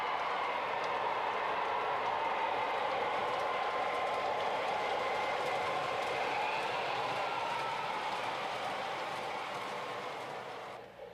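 O gauge model train locomotives, MTH Rail King F3s and Lionel FA2s, hauling cars along track make a steady, continuous whirring rumble with faint clatter that holds level and fades slightly at the very end.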